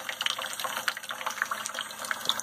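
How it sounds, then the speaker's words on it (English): A Brita pitcher fills under a running faucet, the water splashing and bubbling in a close, soft, continuous trickle, with no voices. "how to fill your Brita container"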